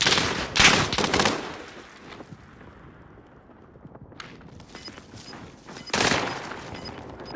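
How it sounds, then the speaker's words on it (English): Call of Duty: Modern Warfare gunfire: loud close bursts of automatic fire at the start, a quieter stretch of scattered distant shots, then another heavy volley near the end. "Enemy fire."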